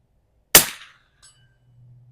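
A single sharp rifle shot at 100 yards on a plinking range, then a faint metallic ping from the steel target plate about 0.7 seconds later, with a low hum lingering afterward.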